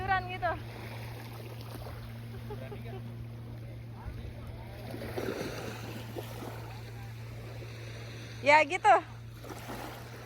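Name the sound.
boat on the sea near Samalona Island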